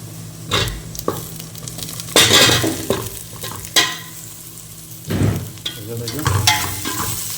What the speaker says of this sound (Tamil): கொஞ்சம் எண்ணெயில் கொஞ்சம் வதங்கணும்